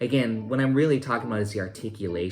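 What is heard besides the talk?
No everyday noise stands out behind the speech.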